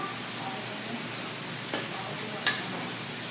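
Steady broadband sizzling of onions frying in hot olive oil in a pan, with two brief stirring scrapes partway through.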